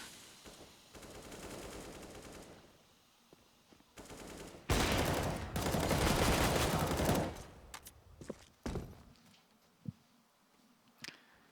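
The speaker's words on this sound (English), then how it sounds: "Oh, look, James, they're in the control room, and they're getting frags." Automatic rifle fire crackles through a Counter-Strike match on the Nuke map around the control room, with several sharp sustained bursts and a few scattered single shots, close and loud with no voices over them.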